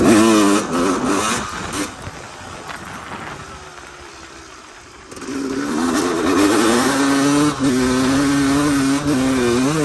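A Honda CR250R two-stroke dirt bike engine revs and pulls while riding, with loud rising and falling buzzing pitch, a brief easing off to a lower idle in the middle, then strong sustained throttle again.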